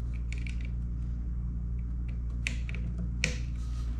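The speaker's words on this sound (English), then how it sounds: "I make sure to secure them until I hear them both snap." Small plastic cable connectors for a Prusa XL hot end heater and thermistor click into place, giving a few sharp, close snaps over a quiet steady hum along with light handling noises.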